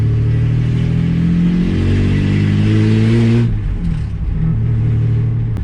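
A Ford AU Falcon drift car with a manual gearbox accelerates loudly and close up, its engine pitch climbing steadily before a sudden drop at a gear change, then settling into a lower rumble.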